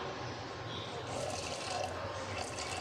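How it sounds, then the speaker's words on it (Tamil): Half a glass of water pours steadily into a pan of jaggery for sweet wheat bonda, with a continuous splashing rush, close and moderately loud. "இதில் ஒரு அரை கிளாஸ் மட்டும் நம்ம தண்ணி சேர்த்துக்கலாம்"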